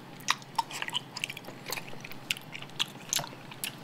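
Honeycomb being chewed close up, soft wet crunches and sticky clicks in an irregular rhythm, quiet and alone with no talk.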